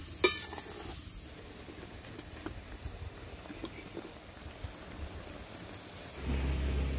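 Okra goes into a bubbling poppy-seed gravy and is stirred, giving a soft, steady sizzle with scattered light scrapes and a louder burst of simmering near the end.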